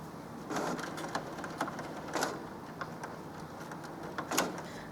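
A Canon Pixma TS5050 inkjet printer runs a printhead cleaning cycle, making faint mechanical whirs and scattered clicks and clacks over a quiet hiss.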